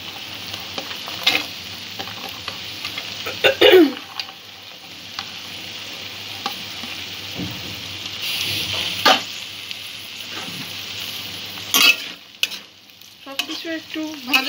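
Chopped vegetables for street-style egg chowmein sizzle and are tossed in a hot pan, with intermittent scraping stirs and bursts of frying. A dog barks faintly in the background.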